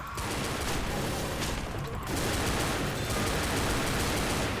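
Rapid automatic gunfire in the zombie shooter game Left 4 Dead, a dense continuous burst of shots filling the clip at steady loudness, with a short dip near the two-second mark.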